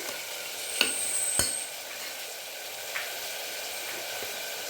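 Cut tomatoes sizzle steadily in a frying pan for a peanut tomato bath, a constant hiss broken by a few sharp stirring clicks and scrapes, with no talking.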